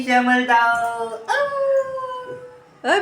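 Puppy howling in two rising, drawn-out wails close by, followed by a third cry starting at the end, amid household voices.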